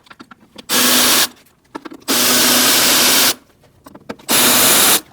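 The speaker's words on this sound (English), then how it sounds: "Using a T25 Torx bit, we're going to remove these bolts." Powered screwdriver with a T25 Torx bit backing out bolts on the air filter housing of a 2008-2014 Mercedes-Benz C300: three loud sustained whirring bursts, close by, separated by brief clicks and handling noise.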